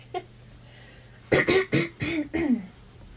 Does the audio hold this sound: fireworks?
no